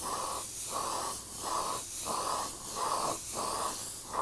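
Spray paint misted lightly over a painting from about six to eight inches away in an indoor studio, heard as a steady series of short hissing bursts with brief gaps between passes, close and fairly loud.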